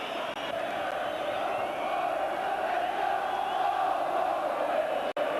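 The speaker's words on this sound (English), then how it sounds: "Now the Ayresome Park crowd in good voice" Middlesbrough football crowd at Ayresome Park in a 1988-89 Division One match, a loud sustained roar of chanting and cheering voices filling the stadium without a break.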